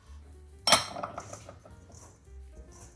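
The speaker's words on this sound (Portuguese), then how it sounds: "Passando esses potinhos pro lado." Small bowls being pushed aside on a kitchen counter while making rosemary focaccia: one sharp ceramic clink and clatter, followed by softer scraping knocks and light rattles, close by with no talking.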